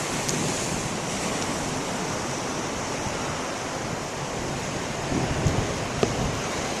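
Ocean waves break on a beach during big surf, a steady roaring wash of surf mixed with wind buffeting the microphone, with a few brief knocks near the end.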